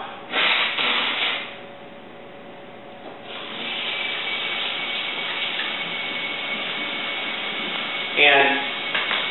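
A person forcefully blows their nose to clear out saline rinse after using a neti pot, with a loud snorting burst at the start and another short blast near the end, separated by quieter breathy noise.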